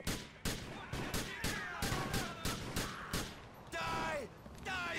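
Rapid gunfire in Grand Theft Auto IV: The Lost and Damned, a steady run of evenly spaced, punchy shots about every third of a second, then a brief pause and a louder burst with ringing echoes.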